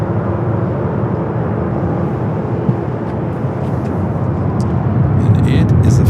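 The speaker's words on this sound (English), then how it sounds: "Next arrival is Delta Flight 767 on a 767 at 300ER coming in from" A Delta Boeing 767-300ER airliner arriving at Los Angeles LAX from JFK, a loud steady jet roar rising slightly toward the end, with a voice talking over it.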